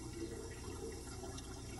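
Water runs steadily from a tap or shower, a continuous close hiss and splash with no breaks and no voices.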